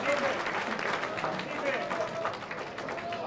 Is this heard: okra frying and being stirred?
no